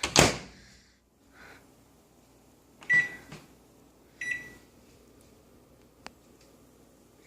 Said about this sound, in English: Put our mug in the microwave.